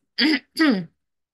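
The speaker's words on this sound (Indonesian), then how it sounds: "Bentar deh, aku batuk lagi." Two short throaty coughs or throat clears in quick succession, close and fairly loud, followed by silence.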